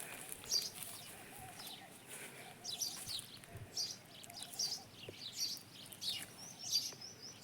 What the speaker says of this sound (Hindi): कितनी सुंदर चिड़ियों की आवाज़ आ रही है।